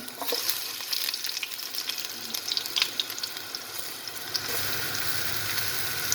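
Garlic sizzles steadily in hot cooking oil in a pan, a continuous crackling fry with occasional stirring scrapes that grows denser and louder toward the end, with no voices.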